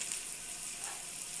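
Spices frying in a pan for a village-style karela (bitter gourd) dish as they are stirred, giving a steady, close hiss and sizzle without pause and with no talk.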